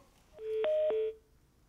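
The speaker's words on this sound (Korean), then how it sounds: "지금 전화를 연결을 다시 할 텐데" Telephone keypad dialing tones while a call is redialed on a Korean radio phone-in show, with two or three short DTMF beeps over about half a second, clear and close, no talk.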